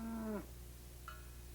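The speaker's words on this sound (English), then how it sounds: "When a group of cows come together, we call them a herd of cattle." A cow moos once, a short, nasal, falling low call that breaks off quickly, followed by quiet with a faint higher bleat-like call from another animal in the background; no voices.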